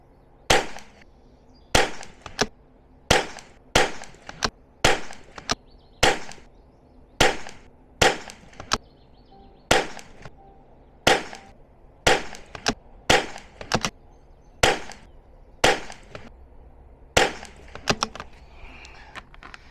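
Subsonic .22 rimfire rifle rounds fired one at a time, about fifteen sharp cracks spaced a second or so apart in a steady rhythm, each with a short decaying tail over faint outdoor background.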